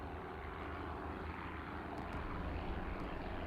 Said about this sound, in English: I'm starting to notice that you can hear these planes behind you now, like you used to.